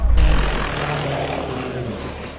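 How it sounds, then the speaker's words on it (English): Rotor and engine roar of a medevac helicopter ambulance crash landing just below the helipad at Kedarnath temple, India: loud, dense low rumble that opens with a heavy burst, then a sustained, slowly fading drone. "The crash landing of the Medevac helicopter ambulance happened just a few meters below the helipad at the Kedarnath temple, India."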